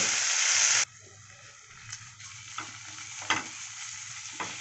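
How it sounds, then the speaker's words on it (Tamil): Chopped tomatoes sautéing with a pinch of rock salt in a pan for drumstick kara kuzhambu, a loud hiss at first that drops to a softer sizzle with occasional scraping stirs. "கொஞ்சமாக கல் உப்பு, நல்லா வதக்கி விட்டுருங்க."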